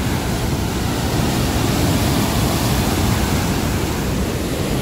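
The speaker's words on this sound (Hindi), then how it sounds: "मेन गेट है जो 52 गेट के, ये देखिए जी पानी ब्यास में ये ज़्यादा है जी" Water rushes through the main gates of the Pong Dam into the Beas river at high flow, making a loud, continuous roar without breaks.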